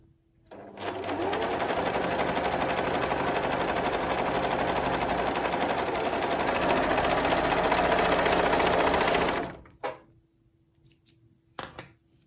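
A sewing machine stitches black fabric in one steady, close, loud whirring run of about nine seconds, then stops, with only faint handling noises afterward.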